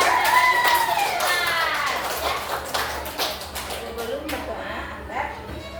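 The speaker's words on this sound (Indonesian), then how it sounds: "Tepuk tangan dong buat kawan." Schoolchildren in a classroom clap for a classmate, a loose patter of hand claps and taps that trails off unevenly while voices chatter over it.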